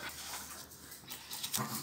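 Pet dog whimpering or choking indoors, a faint strained whine with breathy rasping, quiet and close, brief and alone.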